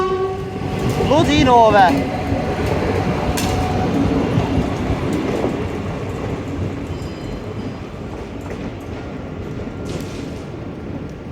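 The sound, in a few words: empty stock Class 446/447 train passing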